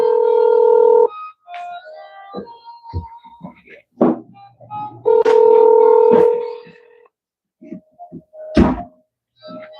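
A telephone is dialed for a call, giving a series of distinct touch-tone beeps with short gaps between them, clear and close, along with a few soft thunks.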